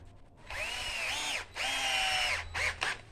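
A power drill drives a screw through a tire bead into wood, whining at close range in two long bursts with a short pause between, then a few quick pulses as the screw seats, with no talking.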